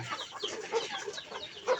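Chicks on a farm make soft, quick peeping and clucking calls in short bursts, close by and fairly quiet.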